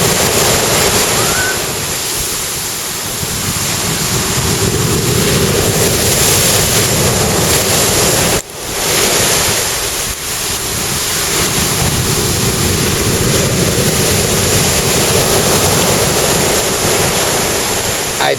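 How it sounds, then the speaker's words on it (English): Big ocean waves break and wash onto Lamai Beach on Koh Samui, a steady loud roar of surf close by, with wind buffeting the microphone and a brief dip midway. "Now back to the waves."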